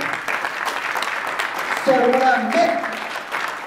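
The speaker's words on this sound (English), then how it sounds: "Let's give him a round of applause." Conference audience applause rises briefly under a speaker's voice at a keynote address, a short burst of clapping that stays moderate in level.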